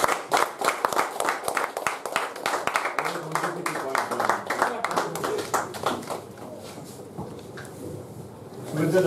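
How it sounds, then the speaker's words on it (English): An audience at a meeting claps together in a dense burst of applause, with voices mixed in throughout; the clapping thins toward the end. "You have to sit down and then we clap."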